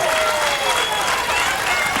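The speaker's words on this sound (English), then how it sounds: "Crowd applauding them." Stadium crowd at the 1999 NCAA Division I women's lacrosse championship applauds, a loud continuous wash of clapping and crowd noise with a commentator speaking over it.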